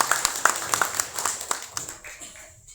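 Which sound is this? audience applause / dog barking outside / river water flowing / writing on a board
audience applause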